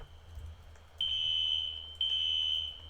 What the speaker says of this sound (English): There's the fire alarm.